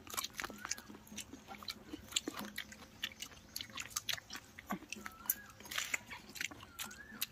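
Friends biting into and chewing raw green mango, giving repeated crisp crunches and wet chewing close by, with light chatter and movement in the background.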